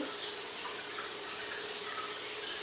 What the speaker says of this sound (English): And add the water.